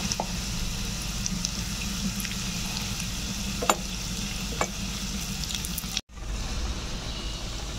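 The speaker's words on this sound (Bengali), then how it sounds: "ফোড়নটা আমি ঢেলে দিলাম।" Tempering of black cumin, a pinch of asafoetida and chili poured into ridge gourd dal, a steady loud sizzle with a few sharp clinks and a brief cutoff before the frying hiss resumes.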